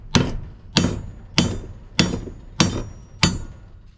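A big machete chopping into a scrapped dishwasher part to split it for its copper, six sharp, ringing metallic strikes spaced about every two-thirds of a second, each decaying quickly, close up.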